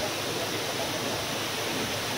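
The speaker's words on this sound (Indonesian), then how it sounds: "Oh, hebat sekali air terjun Giluk." Steady, loud rush of the Giluk waterfall in the Maliau Basin rainforest, a continuous broadband roar of falling water heard close up with no voices over it.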